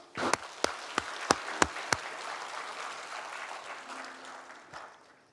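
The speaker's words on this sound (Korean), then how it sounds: "우리 모두 이 시간 하나님께 영광의 박수를 올려드립시다" A Korean church congregation applauds during a ceremony installing and retiring church officers, opening with several sharp, distinct nearby claps before settling into a broad, steady wash of clapping that slowly tapers off.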